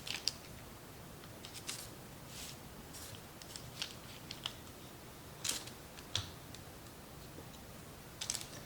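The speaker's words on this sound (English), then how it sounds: "I'm gonna cut the dough. The dough is frozen, so I need a little help to enforce my cut." A knife cuts through frozen pastry dough for honey-glazed tongue pastries, giving sparse, sharp crisp clicks and scrapes at irregular intervals, close and quiet against a soft background.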